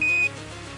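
A single short electronic alarm tone from the Apollo 11 lunar module's 1201 program alarm during the lunar descent, a steady pure beep lasting under half a second before cutting off into a hiss of radio noise.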